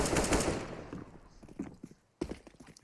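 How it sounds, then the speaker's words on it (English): Rapid automatic gunfire from a Counter-Strike esports match, a loud burst of shots up front followed by scattered quieter pops and footsteps, then a final sharp volley. "Daps is hearing all of this gunfire coming his way."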